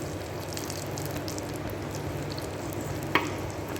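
Curry leaves and a dried red chili, broken into pieces, sizzle and fry in hot oil for a South Indian tempering, a steady soft crackle with one sharp pop near the end.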